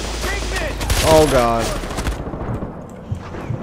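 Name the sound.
drive-by gunfire in the video game Far Cry 4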